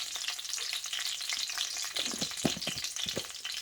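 Cinnamon stick and whole cumin seeds sizzle in hot oil, a faint steady hiss with soft crackles and a few louder pops toward the end.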